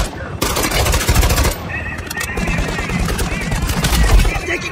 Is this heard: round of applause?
no